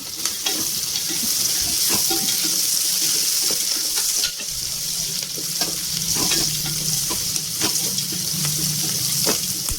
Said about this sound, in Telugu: ఇప్పుడు జీడిపప్పు వేస్తాము జీడిపప్పు చిన్న వేగాక